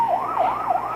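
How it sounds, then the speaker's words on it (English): Ambulance siren passing close by, its wailing tone sweeping up and down in a steady cycle, loud and alone with no voices. "No, just an ambulance driving by."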